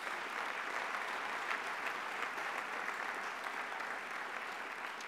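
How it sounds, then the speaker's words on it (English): Sustained audience applause at a luncheon, steady dense clapping from a large crowd filling the room evenly throughout without any voices. "Give us a big round of applause for that."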